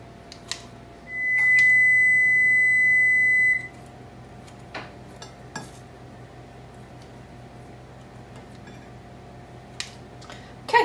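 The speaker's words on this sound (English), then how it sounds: "our oven just beeped, so it's ready to go" A kitchen oven sounds a single sustained electronic beep of a couple of seconds once preheated, clear and fairly close in an otherwise quiet room with a few faint knocks around it.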